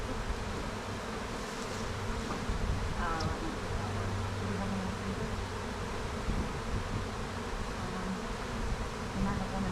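Honey bees buzzing at a hive, a dense, continuous drone of many insects close by, with faint bits of voice in the background.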